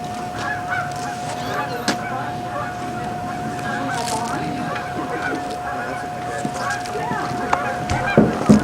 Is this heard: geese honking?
yes